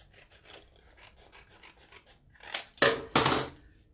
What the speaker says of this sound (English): I'm actually going to trim that a little bit more rather than fight with it.